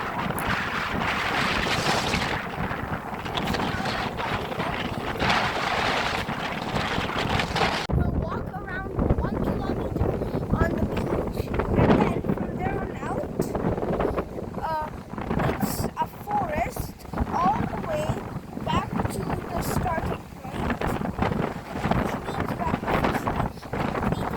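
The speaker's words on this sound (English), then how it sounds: "you can see that the wind is very strong" Strong wind at sand dunes beside the sea with high waves, loud gusty rumble buffeting the microphone throughout, surf washing underneath and a person talking over it.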